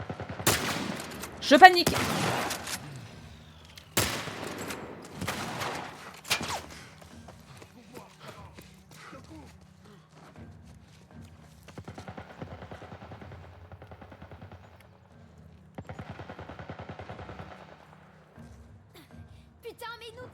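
Gunfire aimed at the player in The Last of Us, loud bursts of shots in the opening seconds followed by quieter scattered shots and clatter, with someone talking over the action.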